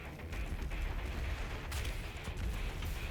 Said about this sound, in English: So see all this explosions going on?